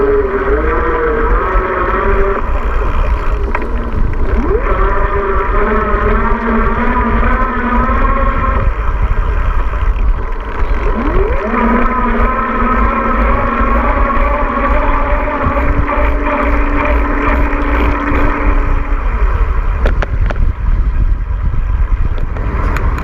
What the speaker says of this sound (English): Hopefully you'll be able to hear the motor starting and stopping.